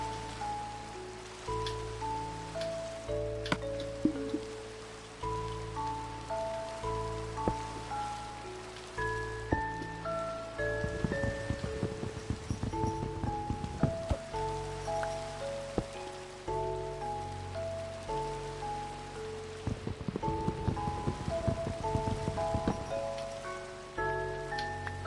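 Rain falling in the video game Minecraft, a steady soft hiss of drops heard beneath gentle, slow melodic game music throughout.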